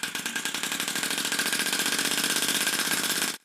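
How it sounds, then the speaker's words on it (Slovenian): A small homemade air motor runs steadily with a rapid, even mechanical chatter and hiss of air, loud and close, then cuts off abruptly just before the end. "Motor še vedno deluje"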